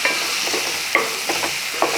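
Egg curry masala for a roasted-coconut egg curry being stirred in a pan just after turmeric goes in, with a soft steady sizzle and a few scraping strokes of the spoon, close by and with no talking.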